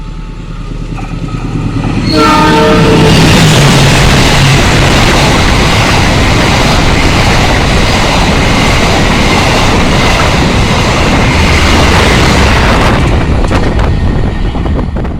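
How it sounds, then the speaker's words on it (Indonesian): The Taksaka passenger train rushes through Pegadaian Baru station, its horn blaring at the start as the roar swells to a loud, close, sustained rumble of wheels and cars, with rhythmic clatter and a brief horn blast near the end. "ini kereta api Taksaka bersiapan melintas stasiun Pegadaian Baru,"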